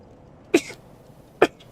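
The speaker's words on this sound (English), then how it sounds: "Double sneeze and triple." Two sharp sneezes from one person, about a second apart, each a brief loud burst followed by quiet, close to the microphone in a quiet room.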